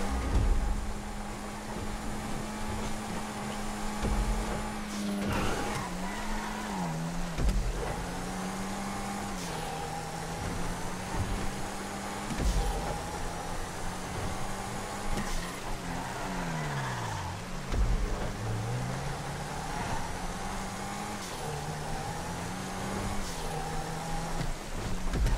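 Cars racing in GTA V, with engine tones that rise and fall in pitch through repeated gear shifts and revs over a steady rumble, fairly faint and with no talk.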